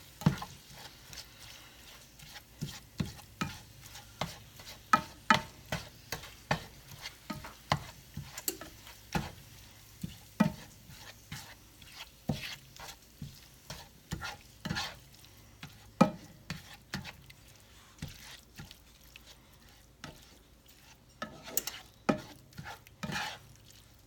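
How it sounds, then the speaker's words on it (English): A spoon scrapes and stirs ground meat browning in a pan, giving a steady series of close, sharp scraping knocks over a soft sizzle, with no talking. "It's browning up nicely. I'm just going to give it a stir."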